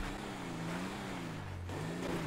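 Pickup truck engine revving repeatedly in GTA 5 while the throttle is held, a steady droning motor with rising and falling pitch, loud and continuous with no talking.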